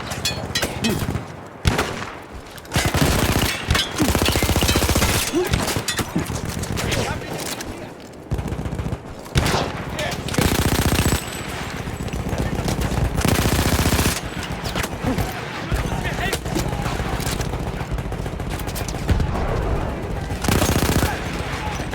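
Machine gun fire in the World War I shooter Battlefield 1, loud sustained bursts of rapid automatic shots with brief gaps, mixed with other battlefield gunfire and shouted voices throughout.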